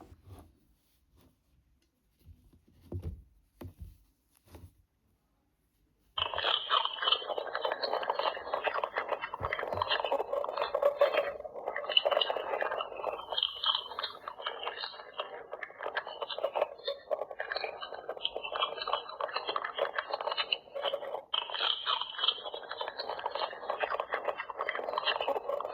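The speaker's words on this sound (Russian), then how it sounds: "Как только они начнут кушать, мы услышим это по характерным звукам." Interactive toy baby bunnies pressed against their toy mother rabbit give off a steady electronic crunching, chewing sound effect that runs continuously for about twenty seconds, following a few soft handling clicks at the start.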